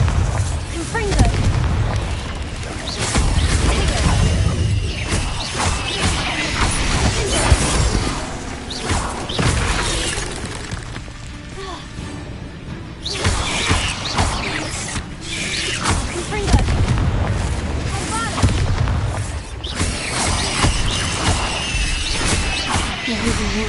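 Bombarda and Confringo spell explosions in the Hogwarts Legacy video game, a dense, loud stretch of repeated booms, crashes and clattering impacts mixed with combat noise and occasional talk, continuous throughout.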